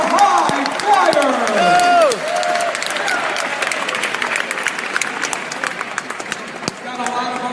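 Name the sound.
audience applause at State Fair show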